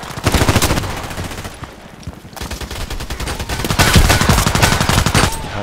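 Rapid automatic bursts from an H&K 416c rifle in the shooter game Contract Wars, loud and close, firing in long strings with a brief pause before resuming, sharp cracks packed into a fast rhythm.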